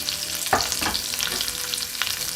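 Garlic hits hot oil in a pan for sizzling beef tongue, a loud close crackling sizzle with a few sharper spatters and stirring scrapes throughout.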